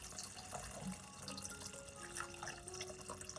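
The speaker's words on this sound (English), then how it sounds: "slowly add water to the basin to rinse off the salt and impurities" Water running steadily into a basin to rinse salted chicken feet, a continuous soft splashing trickle with light drips, close but quiet and alone.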